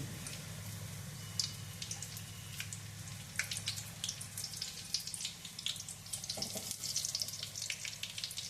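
Oil bubbles and sizzles steadily as chilli fritters (mirchi bajji) fry, with light crackles and watery spatters scattered throughout at moderate distance.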